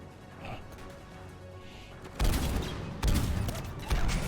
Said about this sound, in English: Those are some long lasting grenades.